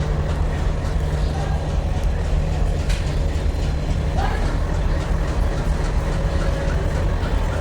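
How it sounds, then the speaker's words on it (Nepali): A train at a station platform gives a loud, steady rumble with a sustained low hum and occasional squeals, with indistinct voices faintly mixed in. "कुन चाहिँ आउँदैछ ट्रेन?"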